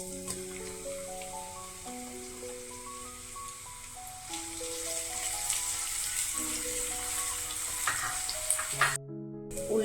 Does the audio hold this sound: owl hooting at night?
no